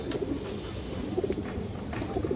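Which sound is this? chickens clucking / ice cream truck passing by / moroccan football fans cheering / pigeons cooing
pigeons cooing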